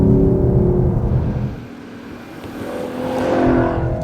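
A car's engine, tuned to imitate a Maserati Gran Turismo, rumbles and revs close by, loud at first, easing off midway, then building again toward the end.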